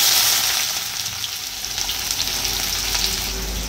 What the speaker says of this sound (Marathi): तर कांदा आपल्याला छान परतून घ्यायचा